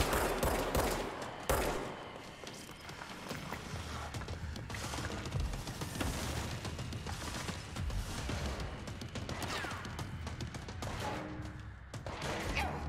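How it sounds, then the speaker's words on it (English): Rapid bursts of gunfire from the video game Control fill the whole stretch, dense and continuous with overlapping shots at moderate loudness and no clear talk. "who's shooting at me? I can't see who's shooting"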